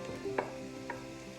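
Minced garlic sizzling in a soup pot of cabbage soup, a low steady crackle broken by three sharp stirring clinks, close and without talk.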